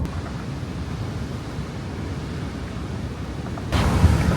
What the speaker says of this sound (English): Quite strong waves, aren't they?